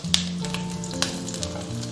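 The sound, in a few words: pan-frying homemade crispy pork sausages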